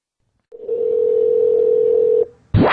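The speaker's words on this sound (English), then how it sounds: "let me get him on the phone" A steady, loud telephone dial tone hums for nearly two seconds, then cuts off, followed by a short rising electronic sound.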